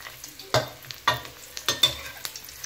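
Red sausages deep-frying in oil give a close crackle with sharp bursts and stirring clatters about every half second, with no talk over them.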